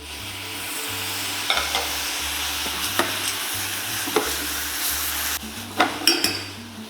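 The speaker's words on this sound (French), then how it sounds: "Donc là, on va rajouter juste un peu d'eau." Green vegetables fry in a pan as a little water goes in, a steady sizzle with occasional clinks and stirring scrapes, close and continuous.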